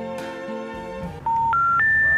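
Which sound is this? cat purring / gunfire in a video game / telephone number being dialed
telephone number being dialed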